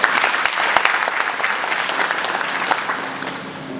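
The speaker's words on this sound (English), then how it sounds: "Let's clap for ourselves." Applause from a university audience in Kampala, Uganda, dense steady clapping from a crowd that holds at an even level for several seconds with a few sharper individual claps standing out near the start.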